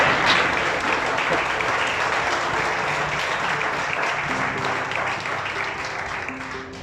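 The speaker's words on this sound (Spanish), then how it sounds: "Si le va a aplaudir al Señor, denle un aplauso y gloria a la alabanza a Él." A church congregation bursts into sustained applause of praise to the Lord, a dense, even wash of clapping lasting several seconds that fades slightly at the end, with faint tonal sounds underneath.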